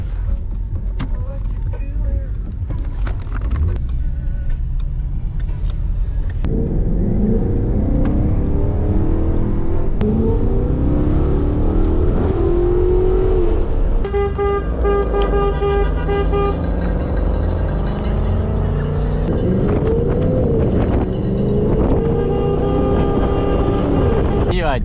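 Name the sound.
car driving in race advertising caravan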